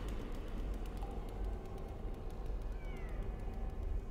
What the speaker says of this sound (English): I gotta get that cat. I gotta save the kitty.